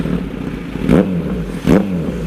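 A Kawasaki Z900 inline-four motorcycle with a Racefit exhaust idles loudly up close and gives two short, sharp blips of the throttle, each rising and falling fast over the steady burble.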